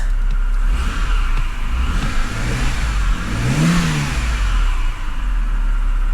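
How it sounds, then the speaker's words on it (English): A flood-damaged BMW E60 528xi is revved in two close, loud pulls. The engine climbs in pitch and falls back toward idle each time over a steady mechanical hum, with no voices. "Let's rev it"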